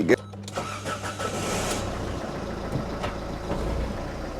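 A car engine cranks and catches while the vehicle is left in gear, giving a brief sharp start followed by a steady low running rumble, close by, with a faint voice near the beginning.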